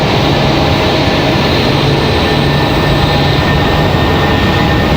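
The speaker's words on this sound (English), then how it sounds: "JetBlue taking off in their A320" A JetBlue Airbus A320 taking off at Raleigh-Durham International Airport, a loud, steady broadband jet roar that holds evenly throughout without voices.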